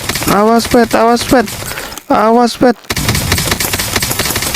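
Guns fire at zombies in a blocky Minecraft-style game, a steady rattle of shots under excited voices that talk over much of the action.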